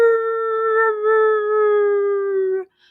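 A person imitates a cat's howl with one long, loud, steady wailing note that holds for over two seconds before cutting off, heard alone and close.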